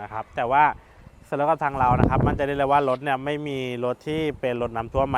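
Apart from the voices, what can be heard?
No everyday noises stand out.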